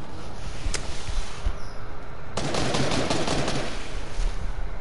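Fortnite gunfire with a shotgun in play: a single sharp crack early, then a dense volley of rapid loud shots close by, with no voices.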